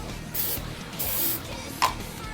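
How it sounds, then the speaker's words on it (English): A can of non-stick cooking spray greases a baking pan in a home kitchen, giving a few short hissing spray bursts, the longest lasting under a second, close and fairly quiet. "Prepare baking pan by lightly greasing or spraying with non-stick cooking spray."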